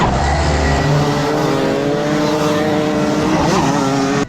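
A racing kart engine drones loud and close, its rising harmonic whine shifting as the kart touches wheels and spins out on the track. Near the end a brief tire scrub is heard before the sound cuts off.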